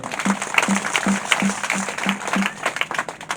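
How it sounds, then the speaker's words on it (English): An audience at a rural women's rights gathering applauds, dense overlapping clapping with a rhythmic pulse of steady group claps and some voices mixed in. "Can we give ourselves a big clap?"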